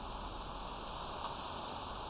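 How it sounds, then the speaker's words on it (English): Steady rain falling outside, heard from within a garage as a constant even hiss with no distinct drops or voices. "yes, it is raining right now"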